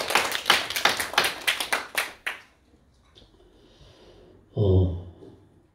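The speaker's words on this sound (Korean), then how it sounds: "우리 박수 한번 치도록 하겠습니다." A church congregation at a Sunday worship service in Samcheok claps in a crisp rhythmic burst for about two seconds, then stops abruptly, followed by near silence and a short breathy voice sound.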